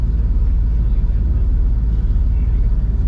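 A bus or car rolling past in traffic, heard from inside a box truck cab waiting to turn left, a steady low engine rumble close by throughout.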